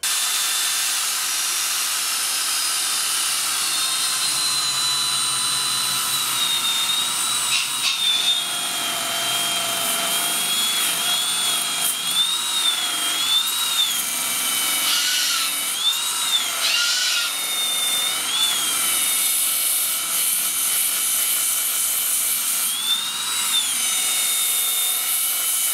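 A Makita 18V cordless belt sander grinds steadily along a door with a loud, continuous abrasive roar and a wavering whine, its tone shifting slightly as it works along the surface.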